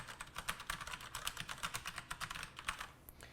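Rapid, steady typing on a Tesoro Colada Evil mechanical keyboard with red switches, a close string of crisp clacks with no talking.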